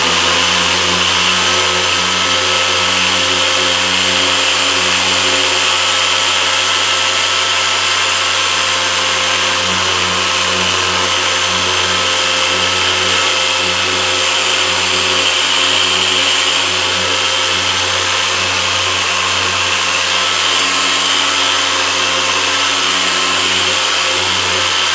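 A Harbor Freight 6-inch car polisher runs at speed 6 with a steady, loud motor whine and hum, constant and unbroken, with no voices.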